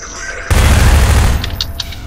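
A grenade explodes in the Half-Life 2 video game, a single loud, close boom that rumbles and fades over about a second and a half.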